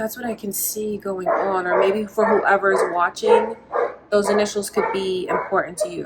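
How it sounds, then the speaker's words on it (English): Dogs bark repeatedly outside, a steady run of yips and barks at moderate distance that sits under a person talking throughout. "Sorry about the dogs outside, you guys."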